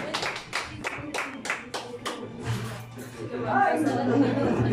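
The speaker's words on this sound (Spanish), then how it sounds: "Pero fuerte el aplauso, por favor" Scattered hand claps at a family birthday celebration with a youth mariachi band, a handful of people clapping sharply then fading into chatter and background murmur.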